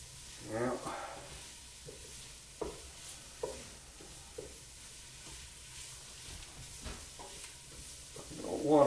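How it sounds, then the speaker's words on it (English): Onions and celery sautéing with seasoning in a pot for fish chowder, a quiet sizzle under intermittent stirring clinks and scrapes, with brief bits of talk. "Kind of smells good after you put the seasoning in and mix it in with the onions and the celery."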